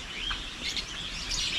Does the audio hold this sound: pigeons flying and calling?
yes